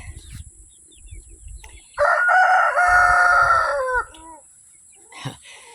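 A rooster crows once, loud and close, a long drawn-out call lasting about two seconds amid quiet outdoor background.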